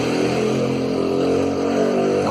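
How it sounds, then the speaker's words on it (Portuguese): A motorcycle on a street outside drones continuously with a buzzing, steady engine roar, fairly loud, and no talk is heard over it. "Tem uma moto fazendo um barulho na rua aqui, atrapalhando a gravação"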